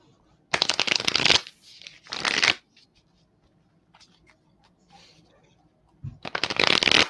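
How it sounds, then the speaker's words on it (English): Tarot cards being shuffled by hand in three bursts of riffling and flicking, near and fairly loud, with quiet pauses in between and no talking. "let's pull some cards and see what else we got for you"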